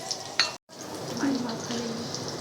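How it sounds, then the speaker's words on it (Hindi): Green chillies and cumin seeds frying in hot oil with golden onions for a toor dal tempering, a soft steady sizzle with a brief clatter and a short dropout, close up, with no talk. "इसके अंदर हम डालेंगे थोड़ा सा ज़ीरा, 1/2 टेबल स्पून, और इसके अंदर हम डालेंगे 3-4 हरी मिर्चें।"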